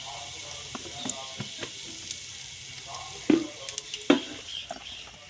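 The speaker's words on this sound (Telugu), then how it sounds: "మసాలా వేసానండి అందులో కొంచెం కారం కూడా వేస్తానండి ఇదిగో ఫ్రెండ్స్ కారం వేస్తున్నానండి" Chili powder going into masala frying in a pan, a soft low sizzle under scattered clinks and scraping taps of a utensil, with a few sharper knocks toward the end.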